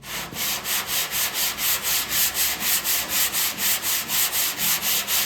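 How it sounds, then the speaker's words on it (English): An 80-grit sanding block scrubs back and forth over body filler on a car panel, about two strokes per second in an even rasping rhythm, close and steady with no talking. "We're just gonna sand it."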